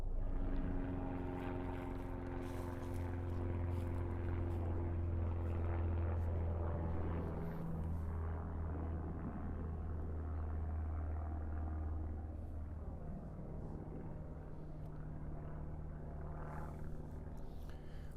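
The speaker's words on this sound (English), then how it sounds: "There's actually also a prop plane overhead." A propeller plane drones overhead above woods by a lake on an autumn hike, a steady low hum with a fluctuating tone that swells and then slowly fades.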